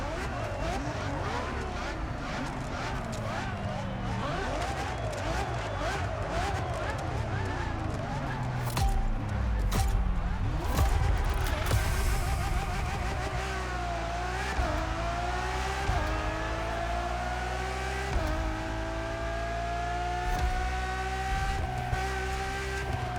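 Ferrari Enzo engine in the racing game The Crew Motorfest, roaring and revving through rising and falling gear sweeps with brief shifts, loud and continuous, with a voice speaking over it.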